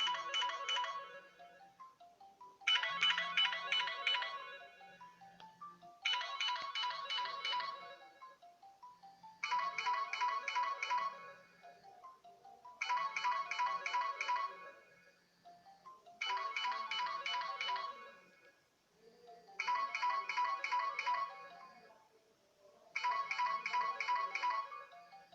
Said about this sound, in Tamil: ரிங் ஆகிற சத்தம் கேட்கும் உங்களுக்கு